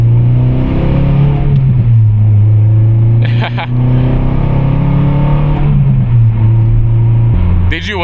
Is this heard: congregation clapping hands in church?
no